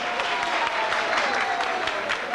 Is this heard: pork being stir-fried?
no